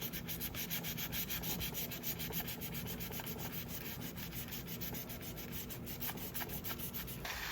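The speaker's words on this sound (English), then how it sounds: "When I'm hand sanding, I often like to also hold the vacuum near where I'm sanding." Hand sanding strips the old textured finish from a vintage faux bamboo desk, a quiet, steady rasp of rapid back-and-forth strokes continuing without pause, close and alone with no voices.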